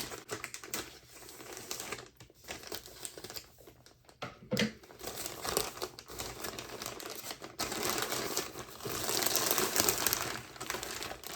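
Plastic bag holding a Jellycat plush toy crinkles and rustles close by in bursts of crackling, with short pauses between handling sounds and no voices.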